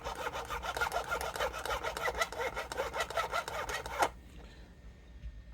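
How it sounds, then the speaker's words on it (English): A small file rasps across the notch of a guitar bridge saddle on an ESP LTD EXP-200, a close, steady run of quick back-and-forth strokes for about four seconds before stopping into near silence. "hit it with a small file first"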